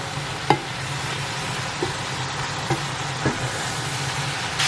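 Meat frying in a pan while preparing Nigerian moi moi, a steady bright sizzle and hiss throughout, with a few sharp clicks of stirring or utensil taps at intervals.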